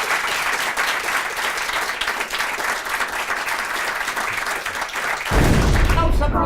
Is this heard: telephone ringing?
no